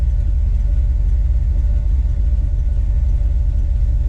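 A Dodge D150 truck's 5.9 Magnum V8 with Holley EFI idles up close, a steady, loud low rumble that holds even throughout with no voices over it.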